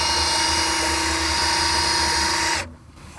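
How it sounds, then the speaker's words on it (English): A power drill motor turning a 1937 Pontiac's engine oil pump whines at a steady high pitch, running continuously for a few seconds before cutting off abruptly, close and loud. "I've got a drill motor hooked up to our oil pump"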